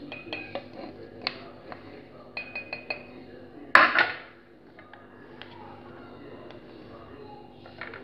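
Kalonji and fenugreek seeds being mixed into oil, with a spoon clinking and scraping against a container in uneven taps and one louder clatter, close by.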